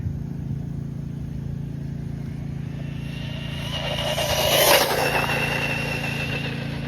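A DeeRC 8618 1/16-scale RC truck races at high speed, a steady high-pitched electric motor whine that swells loudly as it passes close by, then settles back to a constant hum.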